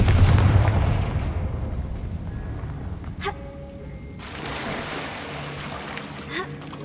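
Confringo fire spell in Hogwarts Legacy, a loud booming blast at the start that decays into a rumbling tail, followed by a brief sharp magical crackle.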